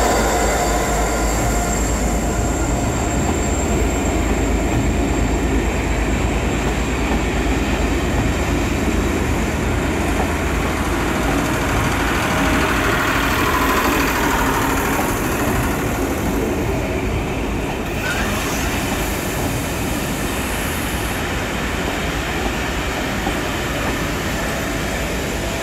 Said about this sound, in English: we start here at Northwestern Station with a West Coast Statesman charter from Liverpool to Edinburgh